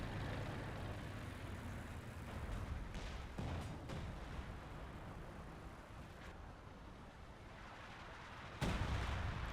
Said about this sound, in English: Looks like rocket barrage going off.